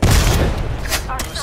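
A frag grenade explodes in the video game Apex Legends, a loud, close boom with a heavy low-end burst that decays over about a second, followed by scattered gunfire-like cracks.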